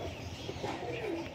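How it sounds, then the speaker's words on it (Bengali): A Dhannewala pigeon coos softly in a low, rolling murmur, close by, with faint chirps from other birds behind it and no talking. "এই আর একটা ধান্নেওয়ালা পায়রা দেখুন"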